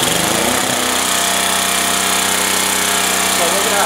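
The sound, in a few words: Generac G-850 generator with Kawasaki engine starting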